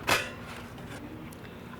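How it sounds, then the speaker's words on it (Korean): A single short plastic scrape and clack as the drip tray slides out of a Breville Oracle BES980 coffee machine, then a faint hum of quiet room noise. "트레이를 빼서"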